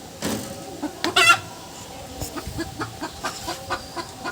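Desi chickens on a farm give a burst of clucking near the start, followed by a run of short, evenly spaced clucks and calls at moderate distance over a busy outdoor background.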